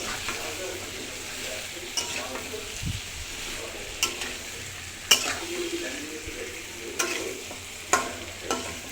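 A small portion of meat frying in a pan with spices, a steady sizzle under occasional stirring scrapes and light utensil taps on the pan, close by and without talking.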